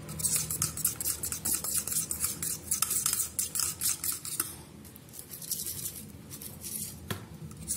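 Garlic being stirred into a butter mixture for garlic bread, a steady run of quick scraping, clinking spoon strokes against the bowl, close and fairly quiet with no talk.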